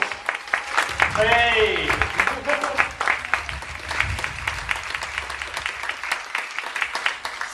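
Audience applause welcoming a keynote speaker at an internet marketing event, dense clapping throughout while a voice calls out and a few people talk over it near the start.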